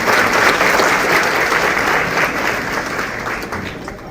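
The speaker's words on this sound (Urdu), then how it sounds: "اتنی محبت سے تالیاں بجائیں کہ اس کی آواز ان کو گلاسکو پہنچے" A charity wedding event audience applauds warmly, a dense sustained wash of many hands clapping that holds steady and fades slightly toward the end.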